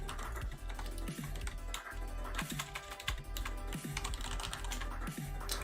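Steady typing on a computer keyboard, close and continuous, with rapid irregular key clicks running throughout under a soft background hum.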